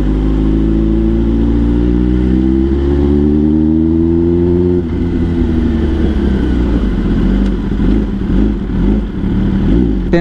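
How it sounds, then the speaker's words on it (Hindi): A Kawasaki ZX10R sport bike fitted with an Arrow full-system exhaust revs hard and loud, a steady high-rpm drone that shifts pitch midway, then turns rougher with crackling pops that suggest backfires, alone with no talk. "ओहो बैक फायर्स भी क्या दे रही है बॉस।"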